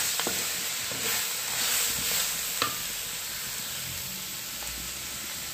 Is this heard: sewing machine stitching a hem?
no